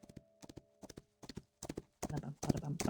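A tall, dark red hunter horse's hooves clip-clopping through a noisy forest in the video game Love and Deepspace, a quiet rhythmic patter of steps that grows busier, with voices joining at the end.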